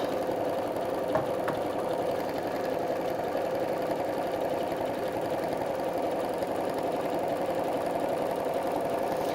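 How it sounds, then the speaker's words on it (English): A sewing machine stitches a quarter-inch seam along a quilt block, a steady, even mechanical whir running without pause at close range, with a couple of faint clicks near the start. "I'm just going to sew a 1/4 inch on both sides"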